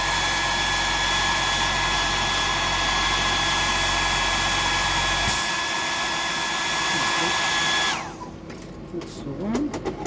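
A heat gun drying black paint on a handmade glide fishing lure blows with a steady loud whirring hiss, then switches off and winds down, leaving quiet handling noises.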